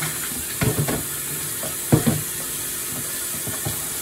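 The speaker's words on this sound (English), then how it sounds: "Rinse my hands." Tap water runs into a kitchen sink while hands are rinsed under it during cooking prep, with a steady splash and a few louder splashy bursts, close by and with no talking.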